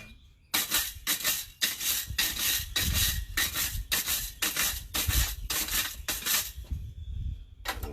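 Scale is scrubbed off a blacksmith's forged workpiece in a series of quick, rhythmic abrasive strokes, loud and close, a dozen or so scraping passes with brief gaps between them and no talk.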